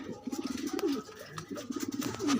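Pigeons coo in soft, repeated rolling phrases, a few close calls in quick succession with a quiet background.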